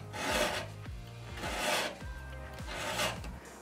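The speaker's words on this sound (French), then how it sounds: "avec une lime ronde, faire une encoche pour que le fil vienne se positionner correctement sur la fleur" A round file rasps back and forth across 925 silver earring wire to cut a notch, in several steady rhythmic strokes, close and moderately quiet.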